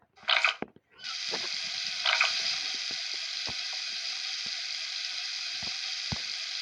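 Shower water runs steadily at close range, a broadband hiss that starts after a brief burst and continues without a break, with occasional small knocks and clicks over it.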